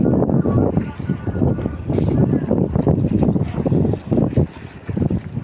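Waves and current on a wide river lined with moored fishing boats, a steady broadband wash with gusty wind buffeting the microphone throughout, fairly loud and close.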